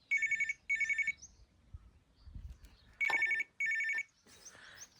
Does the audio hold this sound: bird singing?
no